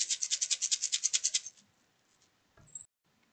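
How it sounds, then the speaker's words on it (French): Dry rice grains rattle quickly into a small plastic box while a fabric baby activity book is being sewn, a fast run of about a dozen soft, gritty pulses that stops. A faint knock follows in a quiet room. "On met du riz dans notre petite boîte en plastique."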